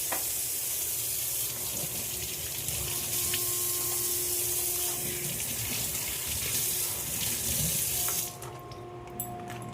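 A kitchen tap runs steadily while milk packets are washed under the stream, a close, continuous splashing gush that cuts off sharply near the end.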